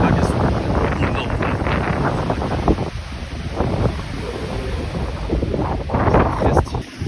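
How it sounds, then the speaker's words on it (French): Huge sea waves crash on a beach in strong wind, a loud roaring wash with heavy wind buffeting the microphone throughout, and people talking over it. "les vagues, elles sont énormes"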